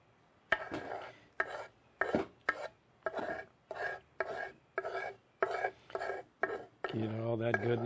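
Parsley chopped with a knife on a cutting board, about a dozen crisp, separated blows at an uneven steady pace, close and clear, ending in a brief scraping and a burst of bright ringing noise.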